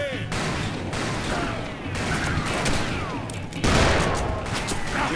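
Gunfire in the Western shooter game Call of Juarez: Bound in Blood comes as dense, rapid overlapping shots with clattering mechanisms, loud and close throughout, swelling near the end.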